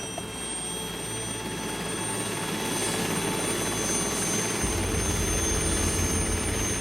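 An Alouette II military helicopter in flight drones steadily and close throughout, its low rotor and turbine roar holding at an even loudness with no voices.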